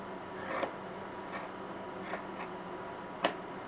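Sharp scissors or pinking shears cutting fabric at an angle beside a stitching line: three separate crisp snips at irregular spacing over a faint steady hiss, close by, with no speech.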